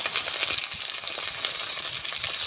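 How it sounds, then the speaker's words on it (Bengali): Potatoes frying in hot oil give a loud, dense crackling sizzle, steady and close with rapid popping spatters throughout and no voices. "তেলটা গরম হয়ে গেছে, আমি তেলের ভেতরে দিয়ে দেবো আলুগুলো।"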